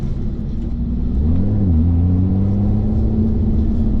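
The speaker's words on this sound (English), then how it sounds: "we've still got this amazing supercharged V6, and when I'm in sport mode you can really hear it" A supercharged V6 car engine in sport mode rumbles deeply and continuously, its low growl rising in pitch as it revs up, then settling into a steady drone.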